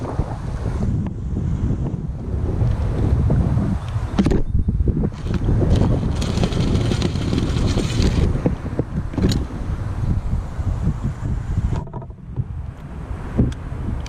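Strong wind gusting outdoors beside an Alliance Avenue 32RLS RV, a loud, continuous roar buffeting the microphone for the whole stretch, surging and easing without letting up.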